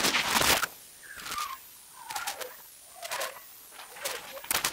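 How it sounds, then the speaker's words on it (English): A sonified geomagnetic storm plays as faint whistling tones that slide downward in pitch, repeating several times. Louder, harsh broadband bursts cut in between the glides. "What you're hearing there are several days worth of sounds from space, and their pitch decreases."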